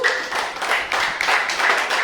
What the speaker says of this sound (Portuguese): Vamos dar uma aplauso para o Senhor Jesus.